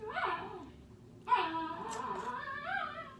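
A dog whimpering and yipping, with high, wavering whines in two stretches separated by a short gap, close and fairly quiet.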